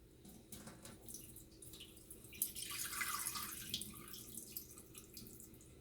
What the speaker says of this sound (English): Rinse the potatoes off.